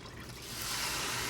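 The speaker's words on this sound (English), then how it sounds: "you basically take your bone broth or your water, you fill up a can in one of the cans" Bone broth or water poured into a can for cooking rice, a steady liquid trickle that swells louder after the first half-second and runs on continuously to the end.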